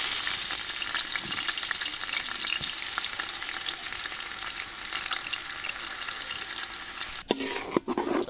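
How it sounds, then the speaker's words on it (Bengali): Rice frying in oil with spices for biryani over a clay stove, a continuous close sizzle with occasional stirring scrapes and clatters, no voices. "বাকি যে মশলাটা রেখেছিলাম সেটা দিয়ে চালটাকে তেলে ভেজে নিচ্ছি সুন্দর করে"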